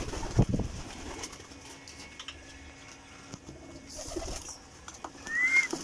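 Racing pigeons kept during a derby in Tuguegarao, Cagayan, cooing softly and intermittently close by amid low background noise, with a few brief whistling calls.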